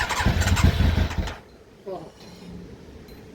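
A Yamaha YZF Thunderace motorcycle engine turns over and runs loudly up close for over a second, then cuts out, leaving quiet background; a voice briefly exclaims afterward.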